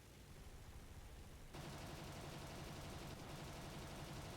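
Sustained rapid aircraft gunfire from a Ju-87 D-5 Stuka in War Thunder, a dense continuous rattle that grows louder partway through and keeps firing without pause.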